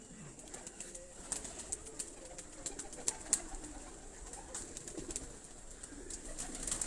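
Flying pigeons kept on a rooftop coo faintly and intermittently against a soft outdoor hiss, with occasional light chirps and flutters scattered through the background.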